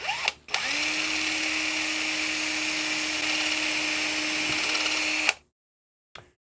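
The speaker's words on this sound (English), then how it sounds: "I've got a 2mm drill bit in my drill right now." A power drill with a 2mm bit spins at a steady whine for about five seconds drilling tuner pilot holes in a guitar headstock, then stops abruptly, followed by a brief knock.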